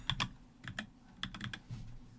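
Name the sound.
typing on a computer keyboard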